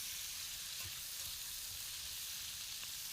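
Three-quarters of a head of cabbage sizzling in a pan over medium heat, a steady soft hiss and crackle throughout with faint stirring, no talk.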